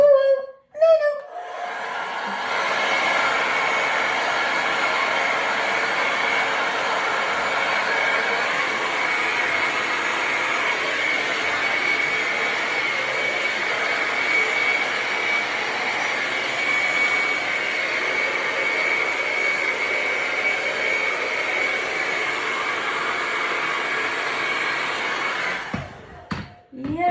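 A hairdryer runs steadily for about twenty-five seconds, a loud, even, close-up blowing whine that starts and stops abruptly, with brief voices at the edges.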